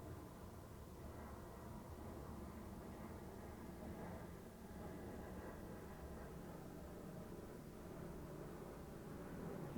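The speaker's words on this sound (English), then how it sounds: "yeah, now you hear the plane." Airplane flying overhead, heard through an open bedroom window as a steady broadband rumble that holds fairly constant throughout, with no talk.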